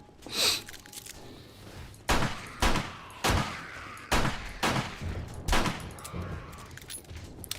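Gunfire in the survival game 7 Days to Die: a close, loud shot opens, followed by a run of about seven sharp reports spaced roughly half a second to a second apart, each with a brief ringing tail.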